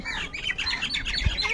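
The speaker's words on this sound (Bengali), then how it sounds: "কি সুন্দর পাখিগুলো ডাকছে।" Small birds chirp and tweet continuously in a lively, overlapping chorus, fairly close, with a faint low thump near the end.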